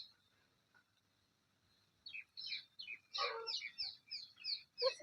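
Chickens and ducks gather in a yard, with soft clucking and chirping calls that start faintly and turn into a cluster of close, rapid squawks in the second half.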